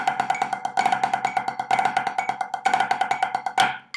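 A cheese triple paradiddle played very fast on a drum pad: dense, rapid, close sticking with periodic louder accents marking each grouping, ending on a strong accented stroke that decays away.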